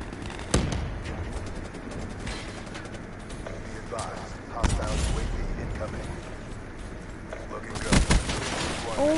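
Gunfire in Call of Duty, a few sharp shots and short bursts spread across the clip over a busy game soundscape of other noises.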